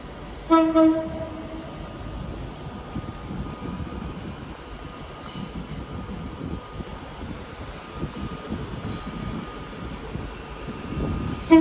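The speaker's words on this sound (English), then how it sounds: "But we're not focusing on the 185s, we're focusing on the Pendolino." A Pendolino train arrives at Manchester Piccadilly station with a steady rumble of wheels and rail noise, preceded by a short horn blast at the start and another toward the end.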